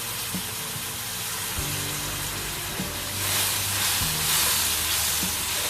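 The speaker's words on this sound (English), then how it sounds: "Just adding the liquid from the mussels first of all." Liquid from cooked mussels hitting a hot pan of masala and tikka paste, a steady broad sizzle with a surge partway through, plus faint low knocks and stirring underneath.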